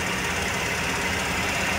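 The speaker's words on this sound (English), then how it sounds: "It's got a restriction in the exhaust. And this is at idle." Ford F150 engine idling with a restricted exhaust, a steady, dense rumble with a slight rough pulsing, loud and close throughout with no talk.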